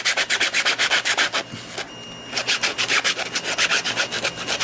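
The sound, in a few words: hand sanding a 3D printed blaster part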